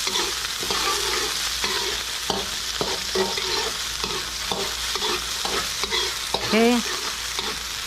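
Chopped onion sizzles loudly in a hot preheated pan for goat curry, with a continuous fry broken by stirring scrapes, and a voice speaks briefly over it.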